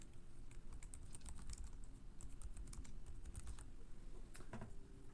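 Computer keyboard typing with no voices, a steady run of quick, irregular key clicks at close range over a low hum.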